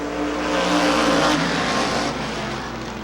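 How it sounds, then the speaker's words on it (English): Race cars accelerate together off the green flag start at Rockford Speedway, a dense, loud wall of engine roar swelling early and holding steady across the field. "Green flag and we're racing."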